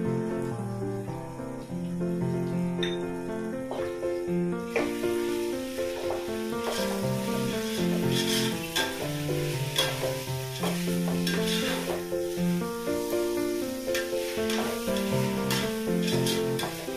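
Biryani masala (ghati masala) stirred and fried in a pan, a steady sizzle with repeated scraping stir strokes, close and fairly loud throughout, louder after the first few seconds.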